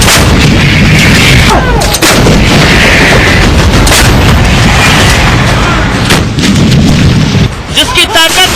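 Military artillery fires repeatedly in loud booming blasts with rumbling echoes, set among bursts of gunfire across a battlefield soundscape.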